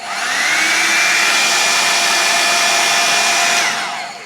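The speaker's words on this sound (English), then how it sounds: "Here's what low sounds like." A Revlon Salon One-Step Hair Dryer and Volumizer running on its low setting, a steady close airy whir with a faint motor whine that holds evenly for several seconds before cutting off.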